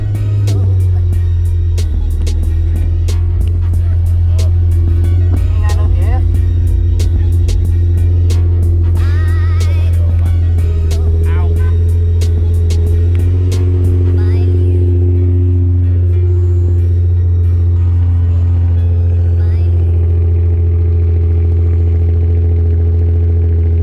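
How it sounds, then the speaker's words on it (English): A Mazda 3i cranks over and fires on a cold start, then settles into a loud, steady idle close by, with a rattling clatter early on and a few revs partway through. "go ahead and start up this car and do a nice little cold start"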